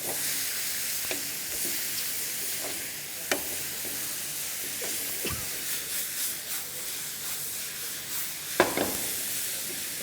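Okra do pyaza (bhendi) sizzles loudly in a pan as it is mixed with sauce, a continuous close hiss and crackle with occasional clinks and scrapes of stirring, no speech.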